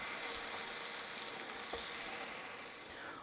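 French toast sizzling and frying on a hot buttered griddle, a steady dense crackle close by with no talking over it.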